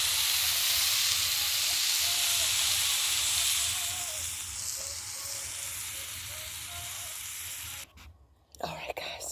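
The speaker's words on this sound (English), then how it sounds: "I've got the filet mignon cooking" Filet mignon sizzling on a woodstove, a loud steady frying hiss that eases after a few seconds and then breaks off into brief clattering handling noises near the end.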